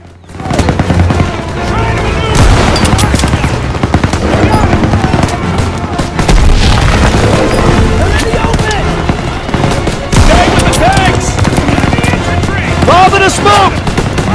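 Dense, continuous battlefield gunfire from Call of Duty WWII's Operation Cobra mission: rapid rifle and machine-gun bursts overlapping at steady loudness, with voices mixed into the din.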